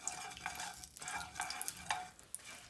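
Black mustard seeds, two bay leaves and one dried chili frying in a little oil, a soft crackling sizzle broken by repeated spatula stirring strokes about every half second.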